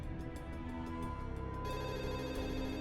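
A telephone rings with a repeating electronic bell pattern, moderately loud and steady over a low background hum, with no speech.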